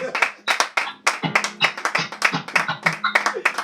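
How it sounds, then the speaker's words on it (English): A church service audience claps in a quick, uneven rhythm, sharp distinct hand claps repeating close by, mixed with voices calling out over the clapping. "Give a round of applause."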